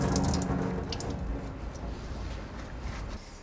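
Tap water running into a sink while a turmeric tie-dyed garment is rinsed, a steady close splashing flow that is slightly louder at first and then continues evenly.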